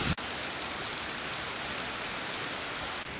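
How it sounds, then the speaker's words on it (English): Heavy rain pours down steadily outdoors while someone shelters under a tree, a dense, continuous hiss of drops close by with no voices. "Holy crap, it's raining."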